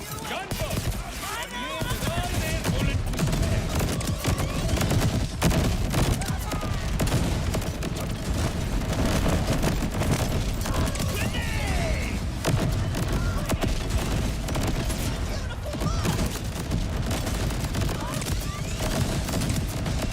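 Grenade blasts from a splash-damage build in Borderlands 4 burst over and over in a dense, continuous clatter of combat noise, with players talking over it throughout.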